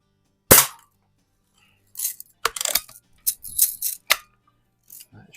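Crosman Hunter Hank BB gun fired at a can, a sharp crack followed by several clustered snaps and metallic pings, close and fairly loud with short silences between.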